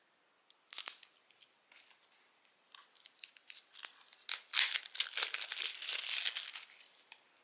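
The wrapping of an oracle card deck is peeled and torn open up close, with bursts of crisp crinkling and tearing between short pauses that build to a longer stretch of rustling.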